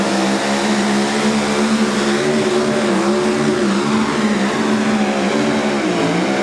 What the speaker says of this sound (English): You can see it bumping the rev limiter along the way.